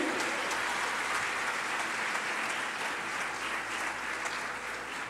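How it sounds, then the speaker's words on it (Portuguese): Church congregation applauding in praise of Jesus during an evening sermon, a dense steady wash of many hands clapping that holds evenly for about five seconds with no voices over it. "dá um aplauso a Jesus aí"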